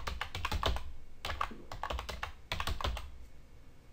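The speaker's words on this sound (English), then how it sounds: "The Upgrade Assistant prompts us for the Linux user and password name for the host with the remote managed server." Rapid typing on a computer keyboard, with quiet, close clicking keystrokes in quick uneven runs and a few short pauses, no voices.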